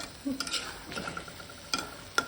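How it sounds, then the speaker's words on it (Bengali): Cucumber stirred and sautéed in a pan for a hilsa curry, with a soft steady sizzle broken by a few sharp utensil clicks and scrapes against the pan, close and fairly quiet. "এখন সুন্দর করে আমি শশাটা কষিয়ে নিব"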